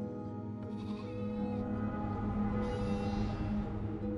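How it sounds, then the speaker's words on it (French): Ewes bleat as a sound effect in a story of the Cyclops Polyphemus's flock: several overlapping, wavering cries that sound close and moderately loud and run steadily without a break. "Elles ne cessent de bêler, leurs mamelles sont lourdes."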